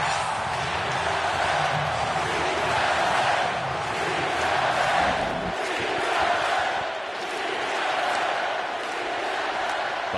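A stadium crowd at a Dodgers vs Padres playoff baseball game roars in a sustained, dense wall of cheering that swells and holds steady throughout, loud and enveloping with no clear voices standing out.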